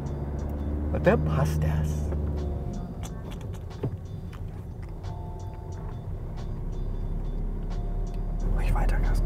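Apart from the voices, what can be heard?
car accelerating during driving lesson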